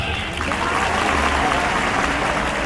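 Loud, continuous applause fills a school farewell ceremony, a thick, even wash of many hands clapping together from start to finish.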